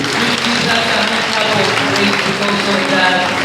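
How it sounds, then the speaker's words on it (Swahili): Church congregation applauding during a sermon: a dense, continuous wash of clapping throughout, fairly loud, with voices mixed in. "Pigia Yesu makofi kwa sababu ya hiyo."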